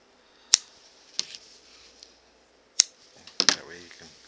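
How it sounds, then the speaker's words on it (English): Scissors snipping artificial sinew during moccasin assembly, a handful of sharp, close, crisp cuts spaced irregularly with a quick double snip near the end, in a quiet room. "Snip it off."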